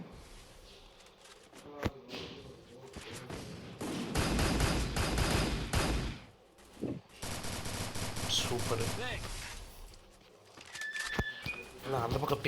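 Automatic gunfire in the mobile battle game Garena Free Fire rattles in long sustained bursts, with a few isolated single shots before and after the heavy volleys.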